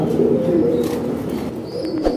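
Fancy pigeons in an indoor farm coo in a steady, low, throbbing murmur that fills the space, with no talking.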